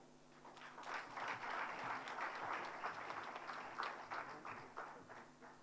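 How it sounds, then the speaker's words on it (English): Steady, dense applause from an audience filling an auditorium after a plenary session presentation, heard a little distant and sustained throughout. "Another round of applause."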